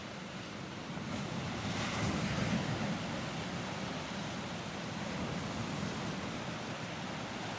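Rough sea waves washing around a ladder on a Danish shore, a steady broadband rush and churn with wind noise, continuous and fairly loud, no voices.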